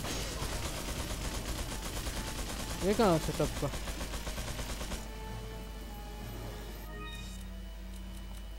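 Rapid gunfire in the video game Resident Evil 4 during a helicopter aerial assault mission, bursts of shots continuing under someone talking casually, with game music and effects in the background.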